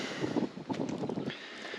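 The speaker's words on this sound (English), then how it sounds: "because it's very windy here" Blustery wind in the ancient forest of Rantis on Ikaria, Greece, buffets the microphone in uneven gusts, a low rumbling roar that swells and eases without pause.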